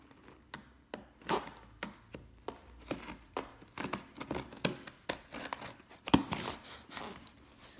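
Cardboard box being cut open with a blade, giving a string of sharp slicing and crinkling strokes in an irregular rhythm, close and moderately loud with no talk.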